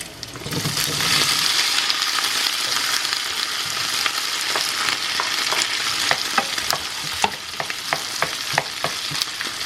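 Crispy bacon fries in a pan with added tomatoes and onion. A loud, continuous sizzle runs through, and sharp spatula taps and scrapes grow more frequent toward the end.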